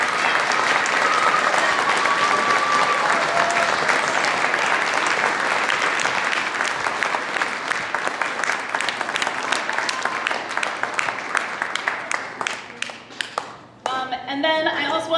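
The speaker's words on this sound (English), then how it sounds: "Let's give them a round of applause." Audience applause at a middle school orchestra concert, a full, sustained ovation from a seated crowd that thins into scattered claps near the end, followed briefly by other sound.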